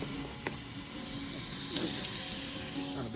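Big burgers sizzle on a hot metal pan, a steady hiss with faint crackles running the whole time at moderate volume, a few brief pops and clinks rising over it, with no talking.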